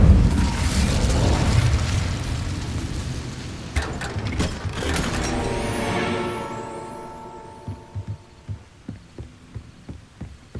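An Incendio fire spell is cast in Hogwarts Legacy, opening with a heavy booming whoosh that fades into a crackling rumble, followed by a run of soft, regular thuds.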